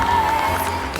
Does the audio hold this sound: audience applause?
yes